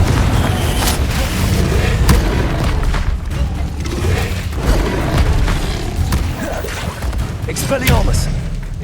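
Confringo blasting spells exploding in Hogwarts Legacy gameplay, a run of loud, sharp booms and bursts at irregular intervals over a dense rumbling game soundscape, with a voice speaking between the blasts.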